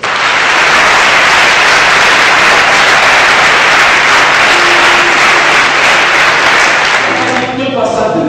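A church congregation applauding and cheering the Lord, a loud, dense wash of clapping and voices sustained throughout before it tapers off at the end.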